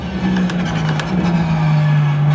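Race car lapping the Imola circuit in a racing video game, with a steady sustained engine drone holding a constant pitch throughout, slight changes as it runs, no voices.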